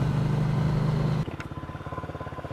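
Yamaha MT-07 motorcycle cruising in third gear, its engine a steady loud drone that shifts abruptly to a lower, pulsing thrum midway, with wind rush throughout and no talk.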